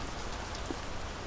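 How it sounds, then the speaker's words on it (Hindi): Soft, even patter of rain falling on a surface, a steady hiss with a few faint drops, heard up close with no talking. "अचानक पता नहीं बारिश कहाँ से आ गई।"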